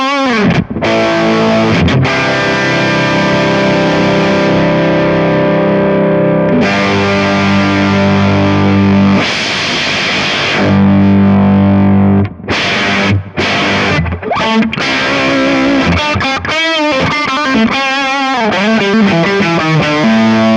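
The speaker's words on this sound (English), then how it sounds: "Let's see how the wave shaper affects the sound." Electric guitar run through the Kemper wave shaper distortion effect, loud and heavily saturated, with sustained fuzzy chords, choppy strummed bursts and abrupt stops, played alone without talk.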